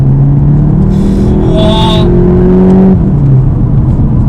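A powerful tuned front-wheel-drive car engine, a Mk8 Golf GTI, roars close by as it accelerates, pitch climbing, then drops as it shifts gear, with a brief whine mixed in.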